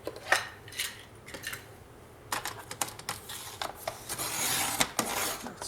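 Craft blade trimming paper pages for a small 15 by 15 Valentine's album, a series of short scraping strokes close by, irregular and fairly quiet, with no talking.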